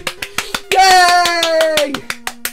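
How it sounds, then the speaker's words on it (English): One person clapping hands in applause, a steady run of sharp, evenly spaced claps heard close, with a long sung or cheering vocal sound over the middle stretch. "I'll stand up right now and start clapping."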